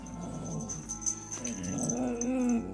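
A dog giving soft, intermittent whimpering yips and low growly sounds, fairly faint and indistinct against a background of steady hum.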